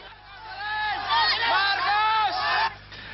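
A large crowd shouts and jeers in unison at a street protest against electoral fraud in the Philippines, voices rising and swelling into loud, sustained massed yelling before dropping off near the end.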